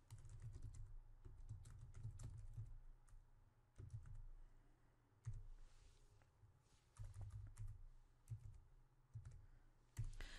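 Typing a comment on a computer keyboard, soft quick key clicks in irregular bursts with short pauses, faint and close against a low room hum.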